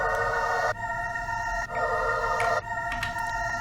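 A dark choir sample with its reel-to-reel tape effect turned down repeats a sustained chord in three or four close, looping swells with brief dips between them, over a light hiss.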